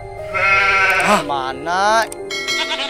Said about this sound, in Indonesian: Ada suara kambing